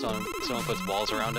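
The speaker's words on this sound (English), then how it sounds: "What's that? That was my phone. I got a text." A phone's text message alert plays a short, bright melodic chime under a voice talking.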